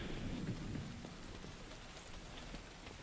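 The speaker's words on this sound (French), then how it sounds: "vous entendez la pluie sur le véhicule" Steady rainfall in The Division 2 video game patters across a vehicle, a dense continuous hiss with low rumbling underneath, fairly close and even throughout.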